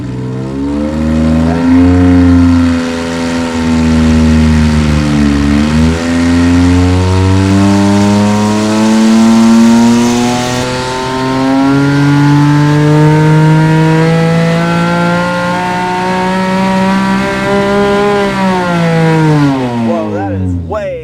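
A naturally aspirated Porsche 997.1 with a 4.1-litre engine revs hard on a dyno, its loud, close wail climbing through the gears in repeated sweeps to nearly 8,200 rpm before dropping away, with people talking over it.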